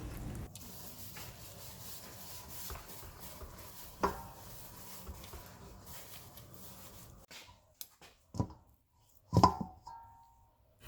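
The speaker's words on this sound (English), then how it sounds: "just mix it all together until a wet dough forms" Flour, olive oil and kosher salt are mixed into a wet focaccia dough, giving soft, continuous sticky stirring. A few sharper knocks against the bowl come near the end.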